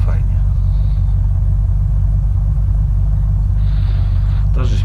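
A car engine in the Unturned video game drives with a steady, loud low rumble, a constant droning hum under background talk, with brief brighter hiss near the start and end.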